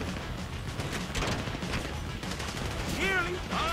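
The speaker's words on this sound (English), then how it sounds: "You hear that gunfire?" Gunfire during a Grand Theft Auto V bank heist shootout, a dense stream of rapid game gunshots and bursts layered over a busy mix, with a voice speaking over the action and sharp whining effects near the end.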